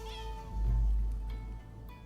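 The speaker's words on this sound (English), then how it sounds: "What is a cat doing here?" A cat meows once in the video game Rise of the Ronin, a single clear, drawn-out call that rises and falls, close and fairly loud against a quiet game ambience.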